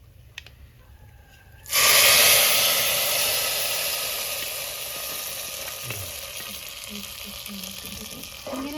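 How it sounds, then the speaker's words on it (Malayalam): Mustard seeds and curry leaves frying in hot oil in a pan: a quiet crackle bursts into a loud, hissing sizzle as the leaves hit, then slowly fades to a steady spitting fry, close up and without talk. "ആ കടുകിട്ട് പൊട്ടിയിട്ട് നല്ല ഒരു പിടി കരിവേപ്പിൻ്റെ ഇലയാണ് വേണ്ടത് കരിവേപ്പിൻ്റെ ഇലയും കൂടെ ഇട്ടിട്ട് ഒന്ന് കടർത്തിടുക്കുക"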